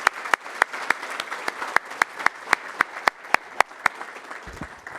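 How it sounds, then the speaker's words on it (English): Sparse, slow applause from a few people at a landcare summit opening session, sharp individual claps spaced out over five seconds, with a brief low rumble near the end. "One big round of applause again for Max."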